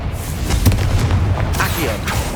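Confringo, a fire-blast spell in Hogwarts Legacy, bursting with a deep, booming explosion that rumbles on for a couple of seconds, loud and close.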